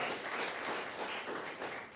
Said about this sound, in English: Gigi Foster, big round of applause, ladies and gentlemen.